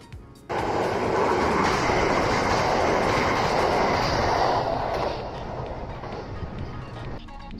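Old train on the Bantan Line rattling loudly along the rails at speed, a continuous roaring clatter from inside the carriage that starts abruptly and stays heavy throughout.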